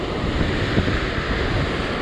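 Sea waves surge against a rocky coast under strong wind at a fishing spot, a loud constant roar with buffeting wind noise on the microphone and small irregular surges.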